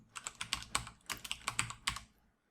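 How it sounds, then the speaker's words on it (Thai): Close, crisp keystrokes on a computer keyboard tap out a quick run of about a dozen clicks with a brief pause midway, then stop. "กดเข้าไปแล้วก็พิมพ์"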